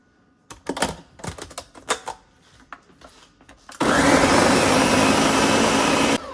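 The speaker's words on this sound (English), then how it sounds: "we're going to blend all of this together" Cumin, garlic and a quarter onion for pozole are first dropped in with scattered knocks and clatter, then the blender starts up in a loud, steady whirring roar that holds for several seconds before cutting off.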